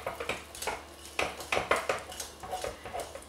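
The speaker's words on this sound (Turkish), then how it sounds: "Şöyle güzelce karıştırıyorum." A spoon stirs chocolate and butter into warm pudding in a bowl, giving a run of clinking, scraping taps at an irregular rhythm, close and moderately loud, with no voices.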